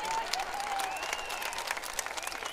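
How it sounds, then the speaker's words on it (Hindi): Women in a crowd at a political rally clapping, a dense, steady round of applause with a faint tonal whine running through it. "देखो महिलाएं ताली बजा रही है,"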